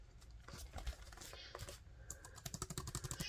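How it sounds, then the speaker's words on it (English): Fingers tap quickly on a small portable keyboard, a handheld PC accessory, producing a run of light, close clicks that grow denser toward the end over a faint room background. "The keys type really well."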